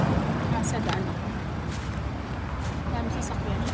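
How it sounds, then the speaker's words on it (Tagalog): Busy roadway with many vehicles passing on a Kuwait street, a continuous traffic rumble with brief passing swishes, heard from the roadside while a person talks over it. "Dami sasakyan."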